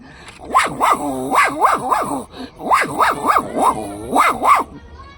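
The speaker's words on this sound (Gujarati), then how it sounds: "આ નાના ડોગ આપણે જેનકા જન્મ હોય તે ડોગના અવાજ છે" A small puppy yaps in quick high-pitched bursts of three or four barks, loud and close, with a brief pause between bursts.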